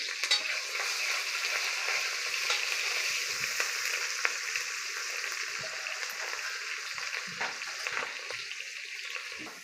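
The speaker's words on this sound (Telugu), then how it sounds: "కొంచెం ఆయిల్ అయితే హీట్ ఎక్కిన తర్వాత కొంచెం ఫ్రై అవ్వాలన్నమాట" Onion with red and green chillies frying in hot oil for paya curry, a continuous close crackling sizzle with scattered pops and stirring scrapes, no voices.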